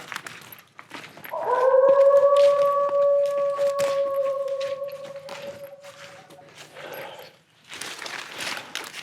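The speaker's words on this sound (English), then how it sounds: "That single call just now did not sound like a coyote." A single long animal howl, not a coyote, heard outdoors at night near Land Between the Lakes: one sustained tonal call holding steady for about four seconds, then fading, amid faint rustling and footsteps.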